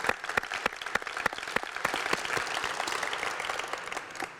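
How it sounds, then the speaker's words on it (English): An audience at a civic gathering in Cleveland about hosting the 2024 Pan-American Masters Games breaks into applause: dense, sustained clapping from many hands, fairly soft and at some distance. "I want us to just give them another round of applause for all the work they've done"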